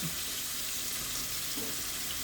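A paintbrush is swished and rinsed in a cup of water while cleaning up from etching a glass cup, giving a steady, soft wet sloshing and splashing with no talking.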